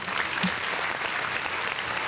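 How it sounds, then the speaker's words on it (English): A burst of clapping applause fills the whole moment, dense and steady from start to finish, with no other sound standing out. "Why are you clapping?"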